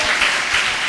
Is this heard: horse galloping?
no